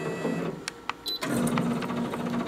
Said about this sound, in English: You can begin winding coils, Rosemary.